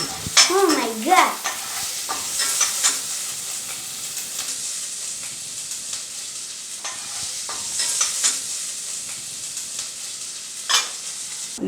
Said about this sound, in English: garlic and this small onions just roasted lightly in ghee or oil